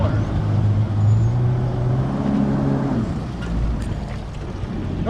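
An outboard boat engine near the dock rises from idle to a heavier throttle as the hull drives up onto a self-centering bunk trailer, a steady low rumble with a brief swell in the middle.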